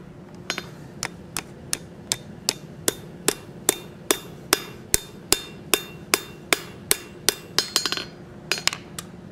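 Hammer forging a Gothic style steel bottle opener on an anvil, about twenty sharp ringing strikes in a steady rhythm, close and loud, quickening into a brief flurry near the end.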